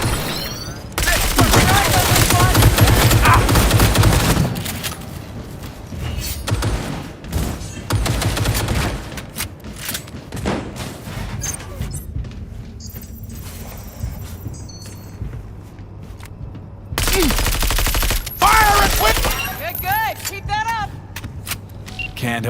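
Automatic and burst gunfire in a Cyberpunk 2077 firefight, loud volleys in the opening seconds and again near the end, mixed with game effects, vehicle noise and spoken voices between them.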